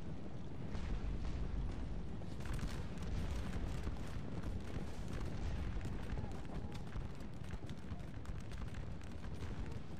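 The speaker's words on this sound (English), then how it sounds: "Some musket fire going on." Musket volleys crackle across a Napoleonic battlefield in Scourge of War Waterloo as a dense, continuous rumble of scattered shots, with sharper reports now and then and low booms beneath.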